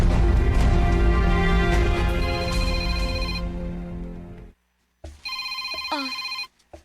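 A mobile phone rings loudly and close by in a sustained electronic ringtone that stops briefly, then rings again in a second shorter burst, with no talk over it.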